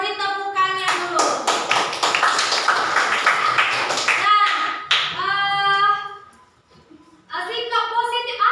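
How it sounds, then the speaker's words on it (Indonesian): A classroom of children claps for a student, a dense burst of hand claps lasting a few seconds, with a teacher and kids talking before and after. "Iya, pintar untuk Azira, beri tepukannya dulu."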